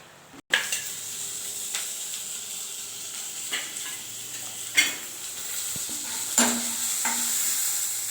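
A pot of bottle gourd bubbles and hisses steadily on the stove, with occasional clinks and scrapes of a utensil against the vessel.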